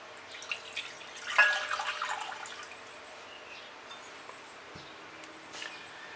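Cool water pours into a bowl in a home kitchen, a soft trickle and splash that swells briefly and then thins to faint drips, quiet and near.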